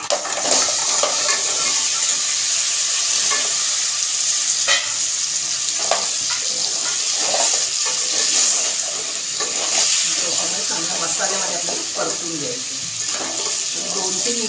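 Crab curry mixture poured into a hot pan over medium gas for a village-style spicy crab rassa, with loud steady sizzling and frying, some watery splashing and stirring scrapes throughout.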